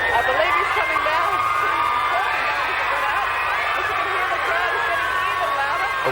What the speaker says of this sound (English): Well, we can certainly hear the crowd.